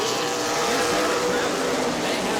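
A race car at a weekly oval racing event roars at full throttle down the straightaway, a loud continuous engine drone that rises slightly in pitch under a commentator's voice.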